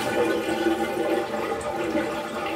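A partly clogged toilet flushes with water draining slowly from the bowl: a steady, continuous rushing and gurgling that holds an even level from start to finish, close by and with no talk.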